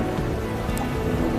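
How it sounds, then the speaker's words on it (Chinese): Rain falling at the seaside during a thunderstorm, a dense steady hiss of drops mixed with surf-like rushing, loud and continuous throughout, with no voices. "下雨了！ 下雨了！"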